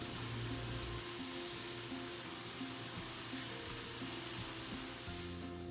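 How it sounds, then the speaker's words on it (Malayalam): Raisins fry in hot oil for a beef dum biryani masala, giving a continuous loud sizzle and crackle close to the pan with no speech. "ഇപ്പോൾ ഇവിടെ മുന്തിരി ഫ്രൈ ആയി വന്നിട്ടുണ്ട്"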